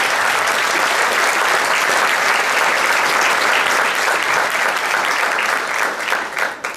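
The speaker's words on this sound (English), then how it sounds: "I want to start by giving her a round of applause" Audience applause fills a presentation event: dense, sustained clapping from a room full of people, holding steady before tapering off at the end.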